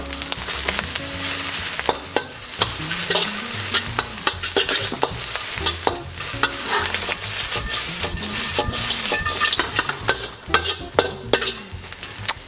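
Bean sprouts stir-fry in a pan for Singapore noodles. A loud, steady sizzle runs under rhythmic scraping and tossing of the utensil, with no voices.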